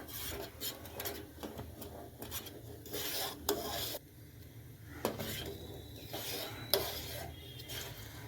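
Ragi malt being stirred in a pot on a stove, giving a steady scraping, rasping rub of a spoon against the pot bottom with a few sharper clinks, close and continuous.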